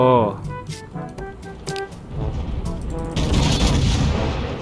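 Naval gun salvos in World of Warships ring out as repeated booming shots over a steady rumble that swells louder toward the end, with someone talking over much of it.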